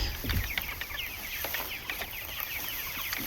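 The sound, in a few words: chickens clucking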